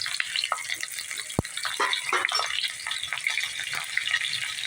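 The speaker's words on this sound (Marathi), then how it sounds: "आणि ही वांगी त्याच्यामध्ये सोडायची पहिल्या प्रथम चांगली परतून घ्यायची दोन मिनटं" Stuffed brinjals sautéing in oil in a pan over a medium gas flame, giving a steady close sizzle with scattered spits and stirring clicks and one sharp knock of the pan.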